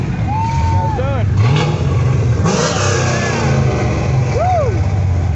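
A Chevrolet Camaro muscle car at the American Graffiti parade weekend revs its engine in loud throaty bursts nearby, amid a festive crowd, with voices talking and cheering over it.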